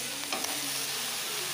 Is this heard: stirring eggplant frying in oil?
yes